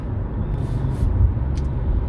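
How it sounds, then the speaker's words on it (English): A big truck rolls past on a rural road with a steady, loud low rumble and engine drone that swells slightly toward the middle and holds close throughout, with no voices. "This big truck coming."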